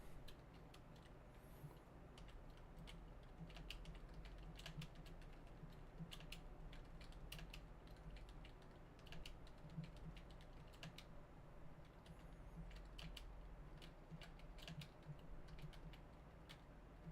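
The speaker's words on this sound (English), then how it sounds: "My finger keeps slipping off the other keys every time I go for the X" Rapid typing on a computer keyboard, dense quiet key clicks running steadily for a long stretch close by, with no talking.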